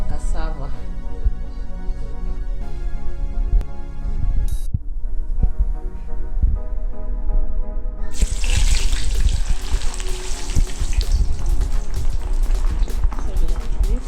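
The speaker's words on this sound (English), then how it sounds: "Now we can fry our cassava." Pieces of cassava fry in hot cooking oil, giving a dense, continuous sizzle and crackle that grows louder and brighter midway, with a voice speaking over it.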